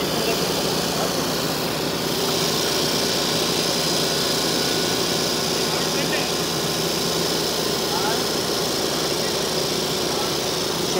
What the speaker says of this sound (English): This is where they are doing this drilling.